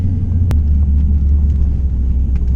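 Twin-turbo third-generation Camaro on a drag strip run, a loud, heavy engine roar and rumble with a sharp break about half a second in, close and continuous.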